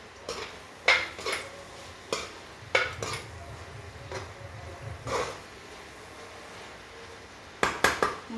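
Metal spoon scraping and clanking against a pan while taro (arbi) sabzi is stirred and roasted, several sharp clinks at uneven intervals over a low background, with no talking.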